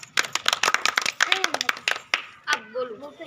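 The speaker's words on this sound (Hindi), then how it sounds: "इसके लिए ताली बजाओ सभी।" A group of children clap in a quick, uneven burst of sharp hand claps, close and fairly loud, as part of a classroom project; a voice speaks briefly as the clapping ends.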